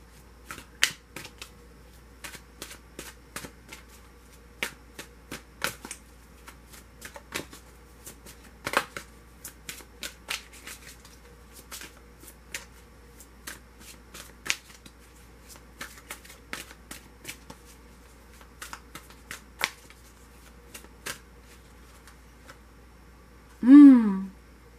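Tarot cards are shuffled by hand in a quiet room, giving a long series of crisp riffling snaps and ticks at irregular intervals, close up, with a brief voiced sound at the very end.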